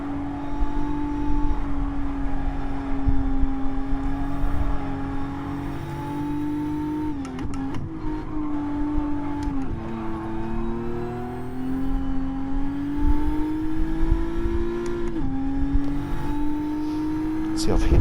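A race car engine in a racing video game at the Fuji circuit holds a steady high drone, briefly dipping and climbing with quick gear shifts, while someone talks over it.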